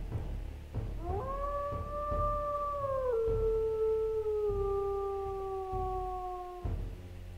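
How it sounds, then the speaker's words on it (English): A single long wolf howl in the video game WolfQuest rises, holds and slowly slides lower over several seconds, clear and sustained over soft background game ambience. "That was the longest howl in existence."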